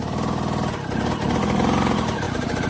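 Off-road vehicle engine held at steady, buzzing revs while climbing slippery rocks up a waterfall, a continuous close, loud drone with no talk.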